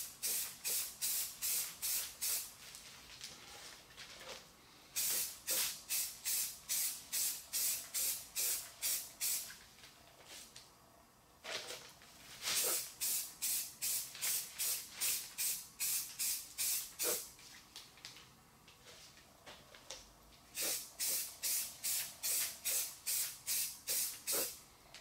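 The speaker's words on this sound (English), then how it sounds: "And then we'll spray bomb it." Spray paint hisses in quick rhythmic bursts, several short sprays in a row, then pauses before further runs of rapid sprays, close and fairly loud.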